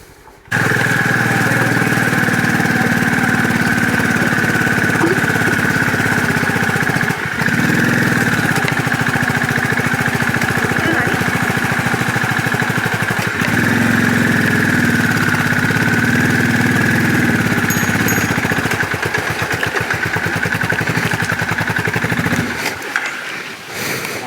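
A motorcycle idles close by, stopped on a steep, narrow mountain road in the Spiti Valley between Chitkul and Nako. A steady, loud engine drone runs throughout and cuts out abruptly near the end.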